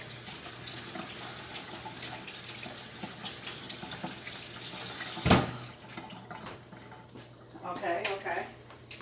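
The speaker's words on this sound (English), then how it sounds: "Gotta wash my hands again." Water runs steadily from a kitchen tap while hands are washed under it, a soft continuous wash with a brief louder splash midway and more water movement near the end, no speech over it.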